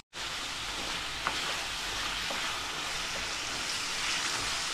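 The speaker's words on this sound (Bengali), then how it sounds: "এই তো শুটকি দিয়ে দিলাম, দিয়ে সিমটাকে কষিয়ে নিচ্ছি ভালোভাবে।" Beans and dried fish fry in a pan with a continuous, even sizzle, and a few faint clicks of stirring sound close by.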